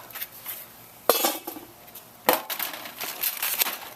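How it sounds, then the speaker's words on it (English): The metal lid of a mini Weber Smokey Mountain smoker is lifted off outdoors, giving two sharp metallic clanks with lighter scraping and rattling in between, close and fairly quiet. "And take the lid off."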